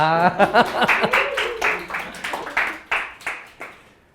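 Students in a Korean car-insurance lecture clap in a short, uneven burst, sharp hand claps fairly close and thinning out over about four seconds, with a little laughter at the start.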